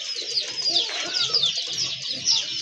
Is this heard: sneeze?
no